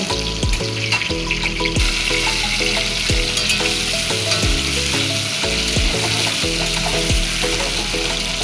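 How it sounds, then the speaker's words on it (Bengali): Pieces of pointed gourd and potato, coated with salt and turmeric, fry in hot oil with a constant crackling sizzle while a steady musical melody plays over it. "ছোট ছোট করে কেটে লবণ হলুদ দিয়ে মেখে তেলের মধ্যে ভেজে নেব"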